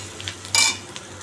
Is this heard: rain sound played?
no